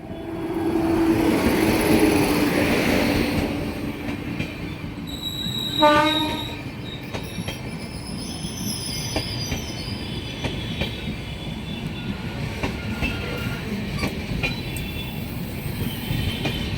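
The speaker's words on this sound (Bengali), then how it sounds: "সাইরাং কলকাতা এক্সপ্রেস ঢুকছে কৃষ্ণনগর" The Sairang–Kolkata Express rolls into Krishnanagar station with a steady rumble of wheels on rail. A short horn sounds partway through, and high wheel squeals and clatter continue as the carriages pass.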